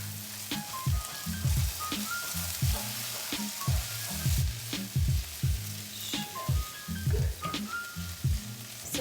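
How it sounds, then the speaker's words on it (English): Garlic and onions sizzle and fry in a pan, a steady crackling hiss broken by soft scraping stirs, close up and without talk. "now we're gonna add in the garlic to mix in with the onions that have already cooked down"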